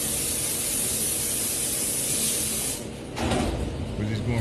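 A spray gun lays finish onto a guitar during repair work, giving a loud, continuous hiss that dips briefly near the end before resuming, with no talk over it.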